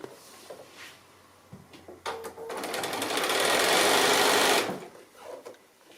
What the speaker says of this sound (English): So I'm just going to sew that seam, leaving a gap there.